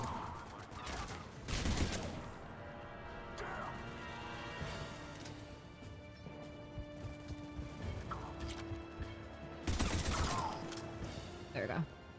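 Mass Effect 3 gunfire rings out in bursts, heaviest near the start and again toward the end, mixed with crashes and mechanical clatter under ongoing game sounds and a speaking voice.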